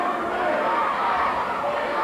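A crowd of thousands packing Boutwell Auditorium in Birmingham, Alabama, at a wrestling event, heard as a dense, continuous roar of voices that stays loud and steady, with chanting blended into the mass of sound.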